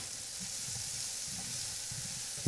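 Scallion whites sizzle in hot fat in a pan, a steady quiet hiss with faint crackles throughout and a slightly louder bump at the very end.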